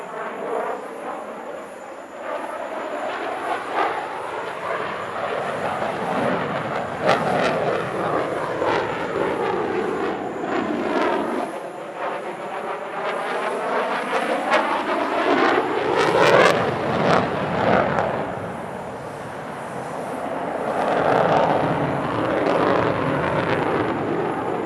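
Sukhoi Su-57 prototype jet flying a display at the Dubai Airshow: a loud, continuous jet engine roar that swells and sweeps in pitch as the aircraft passes, with a steady rumble throughout.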